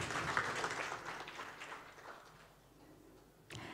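Applause from an audience at an Urban 20 Sherpa meeting, fairly faint and distant, fading out over a few seconds before a brief burst of sound near the end.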